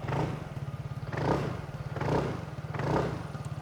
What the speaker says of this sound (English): it's that typical deep Ntorq burbly note